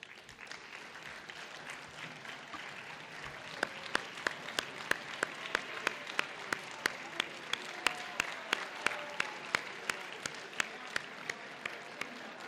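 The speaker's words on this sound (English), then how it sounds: "let your sons and daughters give you a big round of applause" Parents at a senior athletic banquet receive applause from the crowd, a quiet steady wash of clapping that grows more distinct in the second half, with sharp individual claps standing out near the listener.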